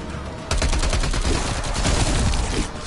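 Rapid SMG fire in a PS4 shooter game, a loud, close sustained burst starting half a second in and rattling on for about two seconds before easing off.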